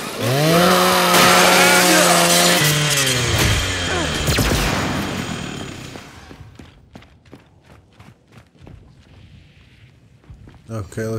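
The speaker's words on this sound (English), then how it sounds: "Nothing a little chainsaw can fix." Chainsaw revving in the Gears 5 video game, a loud harmonic engine roar for the first few seconds that drops away, followed by scattered gunfire-like impacts and footsteps in the game mix.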